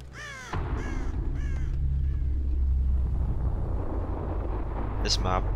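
Crows caw in Dead by Daylight, with a few harsh calls at the start and another near the end over a low, rumbling wind-like ambience, and a voice speaks briefly.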